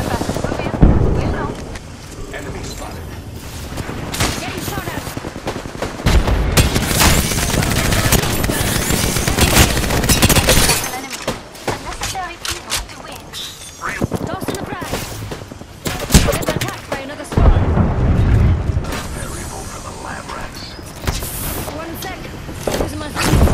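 Rapid automatic gunfire and bursts of shots crackle loudly in Apex Legends, in repeated volleys with brief pauses between them, with a voice talking over parts of the fighting.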